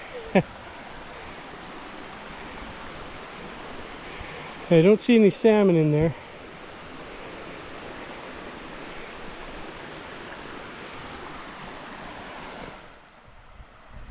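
Steady rushing water of a creek flows throughout, close and constant, while someone speaks briefly partway through.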